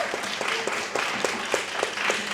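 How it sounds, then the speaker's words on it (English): A seated audience at a women-in-business panel talk claps steadily for the panelists, a moderate burst of mixed hand claps with no voices over it. "A big round of applause for our panelists."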